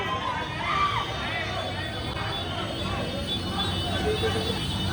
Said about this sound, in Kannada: ಬಂತು ಗೈಸ್, ಕ್ರೌಡ್ ಮತ್ತೆ ಬಂತು